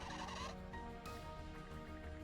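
A penguin in the video game Ys X Nordics squawks over and over, a raucous honking call sounding like a fowl's gobble against a quiet game soundscape, with no talking.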